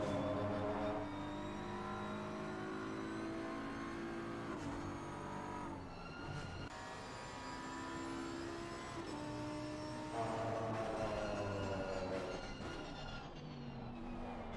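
Onboard race car engine from Assetto Corsa Competizione at Catalunya, a loud continuous whine rising through the gears with brief drops at upshifts, then braking hard into a hairpin before revving up again.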